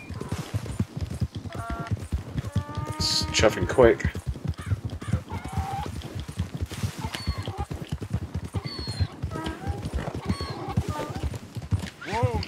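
Rapid hoofbeats clatter in a steady galloping rhythm while a horse whinnies several times; someone speaks briefly over the hooves. Horse galloping in the video game Red Dead Redemption 2.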